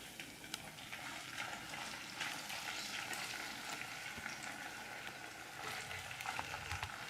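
Scallop skirts frying in a pan with sweated shallots, a steady soft sizzle and crackle with a few louder pops, continuous and close throughout.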